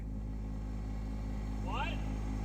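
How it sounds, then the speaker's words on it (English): A tractor engine drones steadily at close range throughout, a low constant hum, with a short excited shout from a man near the end. "Tractor!"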